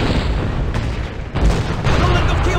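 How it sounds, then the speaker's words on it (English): A keelboat cannon in the video game Gun booms amid dense, loud battle noise, with a heavy blast near the middle and a sustained roar after it, under voices. "Get on that keelboat cannon and blast those boats."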